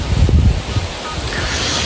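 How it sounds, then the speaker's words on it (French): Cold wind gusts across a lakeside spot at the Domaine des Gerris as the weather turns overcast and chilly, buffeting the microphone with a low, heavy rumble that is strongest at first and then settles into a steady rushing hiss. "On a un vent hyper froid"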